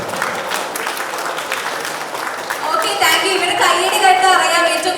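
An audience at a film audio launch event applauds, the clapping swelling louder and mixed with cheers and whistles in the second half.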